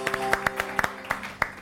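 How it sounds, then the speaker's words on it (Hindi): A small studio audience on a morning television show claps for boxing coaches of young female boxers, with sparse, uneven individual claps in a loose rhythm at moderate distance. "मैं चाहूँगी इनके लिए भी ज़बरदस्त जोरदार तालियां हो जाएं"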